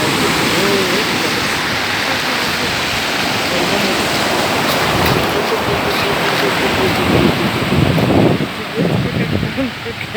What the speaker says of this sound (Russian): Речная волна возвращается, речная вода, волны возвращаются в реку.